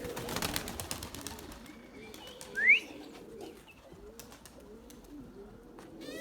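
Pigeons in a loft give soft, low coos that are quiet and close, with a single sharp chirp standing out briefly among faint rustling.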